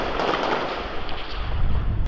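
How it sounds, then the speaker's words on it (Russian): Street gunfire crackles across Port-au-Prince in a dense, continuous roar of distant shots and echoes, loud and unbroken, with no voices. "Звуки уличной стрельбы – привычная картина для сегодняшнего Порто-Пренса."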